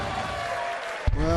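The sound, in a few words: darts crowd applauding the first maximum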